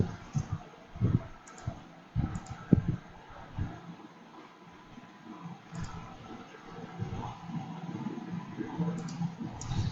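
Quiet, irregular clicks and taps of keys on a computer keyboard as an email address is typed, in bursts with short pauses, faint and close.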